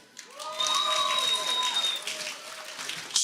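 A crowd at a cooking stage show during Potato Day applauds and cheers loudly for one side, with whoops and shouts layered over continuous clapping.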